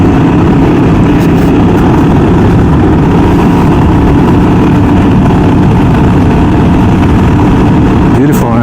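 A Ryker 600 three-wheeled motorcycle engine runs loud and close in a steady, continuous drone, with an unbroken low rumble throughout.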